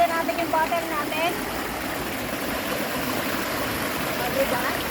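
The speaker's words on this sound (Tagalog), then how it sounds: "tara lalagyan natin yung bottle natin." Spring water from a river spring in Hong Kong flows into a bottle being filled, a continuous close rushing splash; a brief voice sounds at the start.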